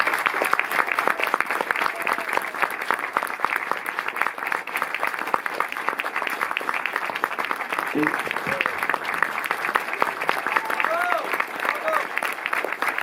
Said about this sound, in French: Je vais vous demander, s'il vous plaît, de faire un tonnerre d'applaudissements pour le réalisateur et le scénariste du film, Régis Varnier.